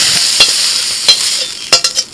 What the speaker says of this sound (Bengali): সামান্য একটু লবণ দিয়ে সয়াবিনগুলো ভেজে নিচ্ছি।